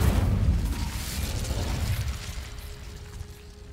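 Fire spell cast in Hogwarts Legacy, a loud whooshing burst with a deep rumble that swells and then fades over a few seconds.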